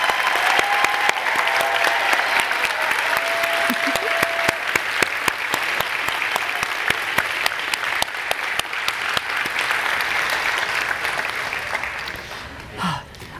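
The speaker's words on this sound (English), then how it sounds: "let's give them a round of applause" Steady, dense applause from an awards-night audience honoring education award nominees, loud and continuous for about thirteen seconds before thinning out at the end, with no speech over it.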